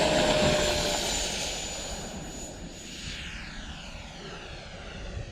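An E-flite F-16 RC model jet taxiing down a runway gives a steady, fairly loud ducted-fan whine that fades slightly after the first second and holds on alone, with no talk.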